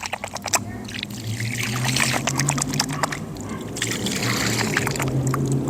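Water pours out of a repaired outlet after hurricane damage, a steady splashing trickle running throughout over a low background hum.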